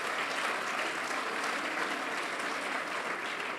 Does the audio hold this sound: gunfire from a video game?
no